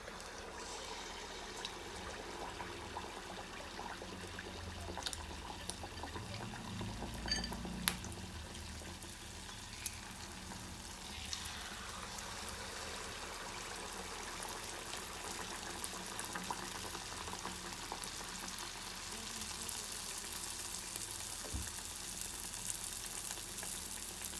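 Ripe banana fritters, batter-coated Kerala pazhampori, sizzle steadily in hot oil over a medium flame, a continuous close bubbling hiss with faint crackles and no talking.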